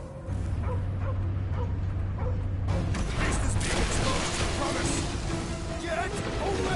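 Cosmo, the space dog in the Guardians of the Galaxy game, barks and yips amid loud battle noise and mechanical clatter, with voices talking over the din.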